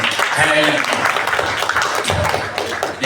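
Audience applause fills a mosque during a haul gathering, a dense, steady wash of clapping lasting about three seconds with crowd voices mixed in.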